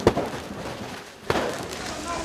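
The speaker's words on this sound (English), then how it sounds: "The protesters are shooting fireworks now towards the police." Fireworks fired by protesters toward police during street unrest in Ukraine, heard as two sharp, loud bangs about a second apart over a noisy crowd background.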